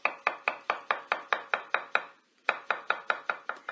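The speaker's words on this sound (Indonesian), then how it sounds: "Itu suara orang sedang mencacah di atas talenan kan ya?" A knife chopping food on a cutting board, with steady rapid evenly spaced chops, a brief pause midway, then the same quick rhythm resuming, close and clear with no voices.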